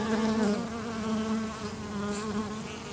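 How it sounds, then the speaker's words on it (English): Bees buzzing around corn tassels in a garden make a close, steady droning hum that swells slightly at times and continues unbroken, with no talking. "The bees buzzing around on the tassels up there is letting the pollen fall down onto the silks"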